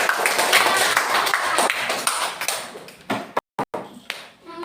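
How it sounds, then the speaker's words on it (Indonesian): Children in a classroom clap their hands together in a dense, lively burst for several seconds, then the clapping breaks off into a few scattered claps with short gaps of silence. "Tepuk tangan buat kita semua"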